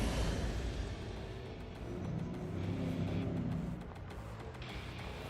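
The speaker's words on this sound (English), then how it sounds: "We know that the Citroën is powerful and torquey, but what really matters on a job like this is traction." Citroën Aircross engine in The Grand Tour video game, a steady loud drone of the car driving and accelerating, sustained throughout with a slight rise and fall in intensity and no talk.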